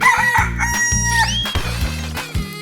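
Chicken in a 3D animal video game, loud rooster crowing and clucking in repeated bursts, close and prominent over background game music.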